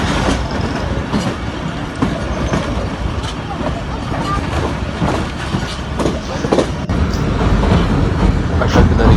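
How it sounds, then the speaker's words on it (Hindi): A train rolls across the old Attock bridge over the Attock river in Pakistan with a loud, steady rumble and faint clickety-clack of wheels close by, continuing throughout. "ये हमारी रेल है"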